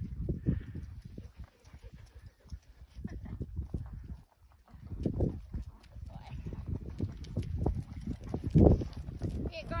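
Irregular hoof clops of a ranch horse on ground, moderately close, with scattered voices and rustling in the background.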